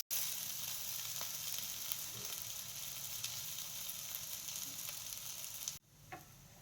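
Matar tikki (pea cutlets) fry in a pan, giving a close, continuous hissing sizzle. It drops off abruptly near the end and returns softer, with no speech.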